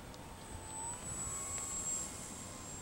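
An E-Flite Apprentice RC model airplane flying slowly gives a thin, steady electric motor whine, faint and distant, over soft outdoor background noise.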